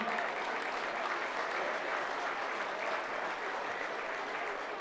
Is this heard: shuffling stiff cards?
no